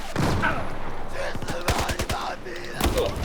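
Bursts of gunfire and explosions from the video game Battlefield 4, a loud run of sharp rapid shots in the middle followed by another heavy blast near the end, with a voice talking over the action.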